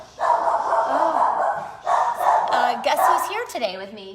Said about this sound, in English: So sorry for the barking.